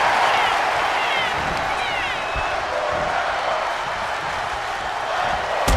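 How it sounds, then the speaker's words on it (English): A wrestling crowd in Houston roars steadily through a wide arena, a dense, sustained wash of cheering and shouting with a few whistles, loud and continuous without a break. "Listen to this crowd in Houston."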